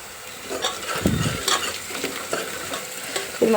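Chopped green chillies and spring onions fry in a pan for a goat trotters soup, with a steady sizzle under repeated stirring scrapes and a few louder clatters near the end.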